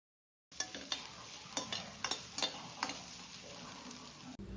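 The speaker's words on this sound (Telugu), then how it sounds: "ఇప్పుడు ఈ ఉల్లిపాయలు కూడా మంచిగా కలర్ మారి సాఫ్ట్ అయ్యేంత వరకు మగ్గించుకోవాలి." Small sambar onions sauté in a pan for a Tamil Nadu style fish curry, with a quiet continuous sizzle and a run of regular spatula scrapes and taps, starting after a short silence.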